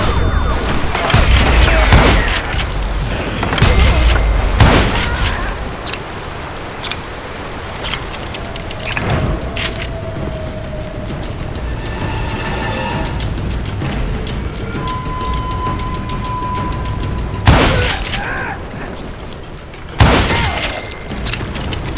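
Gunshots in an audio drama shootout ring out as several loud, sharp bangs spaced across the scene, with clustered reports early on and two heavy blasts near the end over a busy, tense background.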